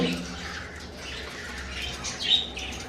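Budgerigar parakeets in an aviary give soft chirps and twittering calls with a brief flutter of wings, moderately close and fairly quiet, with one brighter chirp near the end.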